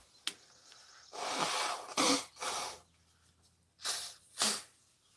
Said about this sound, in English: let me blow my nose here because I don't want to sneeze